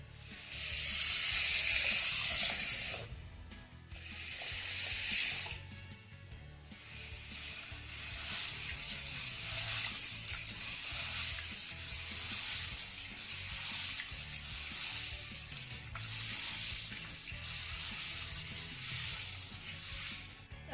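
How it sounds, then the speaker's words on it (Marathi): Sorghum (jowar) grains being washed in water, with sloshing and swishing that swells louder in the opening seconds, then a steady close splashing and rinsing that continues to the end. "ही ज्वारी आपण स्वच्छ दोन ते तीन पाण्याने धुवून घेऊया"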